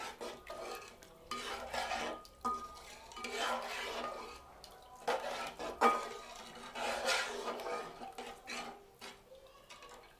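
A spoon stirs salted rice and water in a metal pot for jeera rice, scraping and clinking against the sides in repeated rhythmic bursts, close and steady with no talking.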